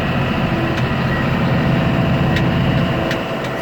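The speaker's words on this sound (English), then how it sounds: "this tractor is rolling strong. Nice, shiny Maxxum 5240." Case IH Maxxum 5240 tractor raking hay in a sunny field, a loud steady diesel engine rumble with constant low drone and faint mechanical clicks from the rake, heard close up without talk.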